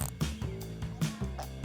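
A voice imitates a zebra farting with a few quick, buzzy, raspy mouth blurts in a loose rhythm, close and loud with nothing else behind it.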